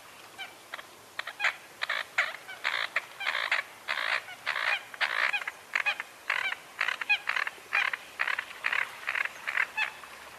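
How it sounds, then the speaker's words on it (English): American coot calls from a marsh, a long series of short, harsh, guttural notes repeating rhythmically about twice per second, fairly close and clear against a quiet background. "Here's American Coot again."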